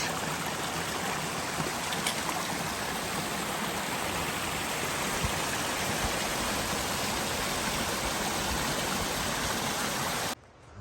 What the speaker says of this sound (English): we've been on the dry Sluice Gap Trail going back down to the Kephart Shelter and coming upon some creeks again